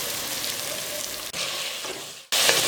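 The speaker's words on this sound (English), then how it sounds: "Now give it about 5 minutes of frying" Onions and tomatoes fry in a pan for a Sri Lankan fish curry, giving a steady sizzle with brief breaks and a louder burst at the end, with no talk.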